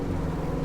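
A modified diesel car engine revs hard inside the cabin, producing a loud, dense roar that holds steady across the short burst.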